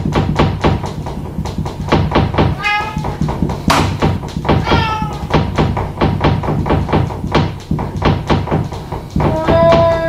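A cat meows several times indoors at night, its drawn-out calls rising between a dense run of rhythmic knocks and thuds that keep going loudly underneath.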